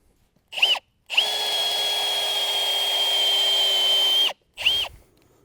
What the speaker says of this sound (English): to pre-drill them, we use a 1/2 inch drill bit